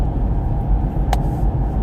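A car's steady low engine and road rumble fills the cabin while driving on the road, constant and close with a brief faint click partway through.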